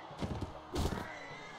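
Horse in the Mount & Blade Warband video game neighing twice, each whinny a loud, close burst over a low rumble of battle noise, with no talking.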